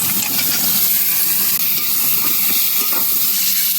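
Potatoes and lentil bori frying in a pan of hot oil give a dense, continuous hiss and sizzle with faint clinks, close and steady throughout, with no speech.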